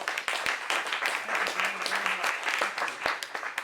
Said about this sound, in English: You give him a big round of applause